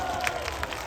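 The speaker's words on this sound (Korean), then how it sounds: "박수!" Audience clapping at a pastor's patriotic rally, a short burst of mixed applause and crowd noise filling the whole moment.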